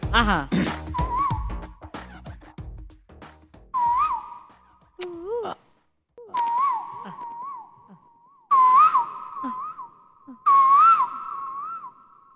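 A comedy performer whistles an imitation of a koel's call in repeated rising, warbling phrases separated by short pauses, close and fairly loud, after some brief speech at the start.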